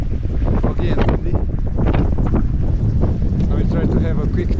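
Heavy wind on the foggy Triglav mountain summit buffets the microphone with a constant loud roar and rumbling gusts, close and unbroken throughout.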